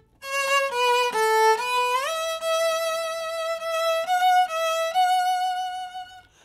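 A solo violin plays a slow melody of sustained bowed notes, sliding upward into third position, a higher register, partway through. Clear and close.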